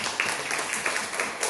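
A church congregation applauds during a Sunday worship service: a soft, steady patter of clapping hands with small swells, heard from a short distance.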